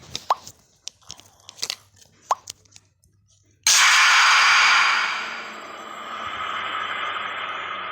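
In a ghost-fighting video game, a ghost eats a player: scattered small clicks and taps give way to a sudden loud burst of rushing noise that fades to a sustained hiss.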